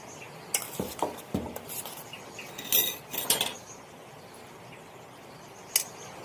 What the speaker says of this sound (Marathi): थोडस दही घालून घेतलं त्यांना मिक्स करून देते